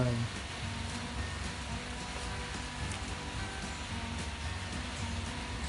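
Rain falling at Khao Kho Kirin resort in Khao Kho, Phetchabun, heard as a steady, even hiss that carries through the whole stretch without a break.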